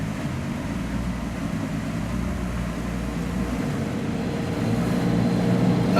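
Interior of a 950+ bhp Ferrari LaFerrari pulling away and driving, a steady low engine drone and road rumble that grows slightly louder toward the end, with no talking.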